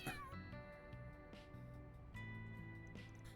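A cat meowing in the video game Trails Through Daybreak, a short sharp mew at the start over a steady layer of game background music, faint and brief, with no talking.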